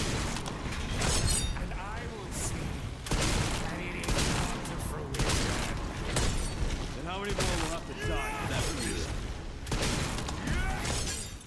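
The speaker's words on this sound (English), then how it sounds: "He parries Victor's tentacle swings and lands multiple shots on his head" Rapid gunfire in a Resident Evil 9 boss fight on the hardest difficulty, dense repeated shots mixed with impacts and clashing game effects, with speech running over the action.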